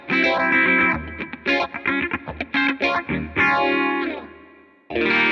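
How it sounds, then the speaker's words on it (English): A Fender Player Acoustasonic Telecaster with a dirty, distorted tone and a sweeping phaser plays a funky rhythmic part of choppy strums and sustained chords, with swirling sweeps audible. It ends after a short pause on one last struck chord. "And this is the phaser funky sound with the dirty Telecaster."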